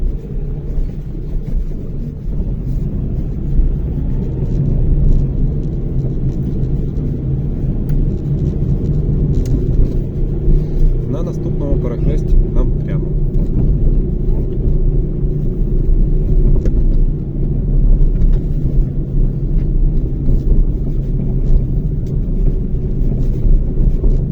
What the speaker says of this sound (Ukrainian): Ми їдемо зараз на дорозі по одній смузі в одному напрямку.